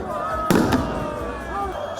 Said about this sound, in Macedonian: Огномет и факли ја загрева атмосферата.